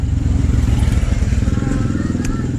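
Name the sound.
motorcycle engine running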